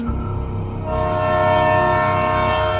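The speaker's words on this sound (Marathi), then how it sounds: "ट्रेनचा आवाज, तो हॉर्न कानात ऐकू आला" A train rumbles past loudly while its horn blares in a sustained, steady tone that grows stronger and holds to the end.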